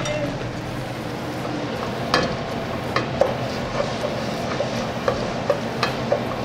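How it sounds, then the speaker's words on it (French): Onions sautéing in a pan as the base for a seafood soup: a steady close sizzle with repeated sharp clinks and scrapes of a utensil stirring against the pan. "On va faire revenir les oignons jusqu'à avoir cette apparence translucide."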